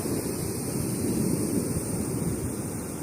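Steady broadband rush of water and wind beside the Milwaukee River in Wisconsin, a continuous even wash with gusty low rumble on the microphone, no voices.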